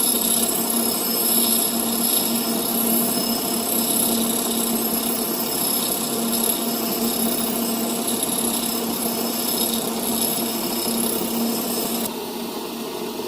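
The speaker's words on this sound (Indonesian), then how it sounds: "kemudian kita pakai gerinda tangan, atau bisa dengan menggunakan gerinda duduk" A hand angle grinder grinds a metal plate edge to prepare a root face for overhead welding, a loud, steady, high-pitched whine with a gritty grinding texture that runs unbroken and near, easing slightly just before the end.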